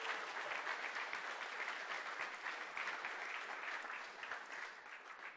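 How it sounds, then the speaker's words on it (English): A sustained round of audience applause for the crew at the ZBrush Summit, dense even clapping throughout that eases slightly toward the end. "give them a round of applause"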